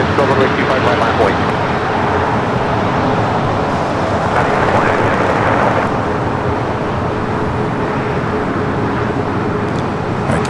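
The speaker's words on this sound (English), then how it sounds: "this is Flight 201 heading back to Seoul in this A380 Super" A ten-year-old Korean Air Airbus A380 Super heads for Seoul from runway 25 right at LAX, a loud steady jet roar that holds strong across the whole stretch.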